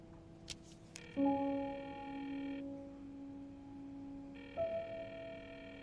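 A telephone call rings out unanswered after a short burst of dialing tones, two long electronic ringing tones separated by a pause, quiet and alone.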